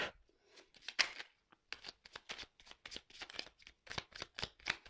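Oracle cards being shuffled by hand, a close series of crisp riffling bursts in quick irregular rhythm, fairly quiet with short pauses between.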